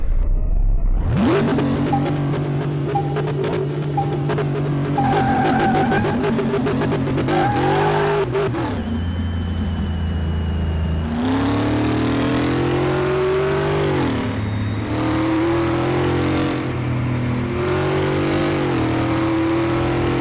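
A car engine in Car Mechanic Simulator 2018 roars to life and revs hard, climbing through sustained loud acceleration, then dropping and surging again in waves, close and dominant with no voices.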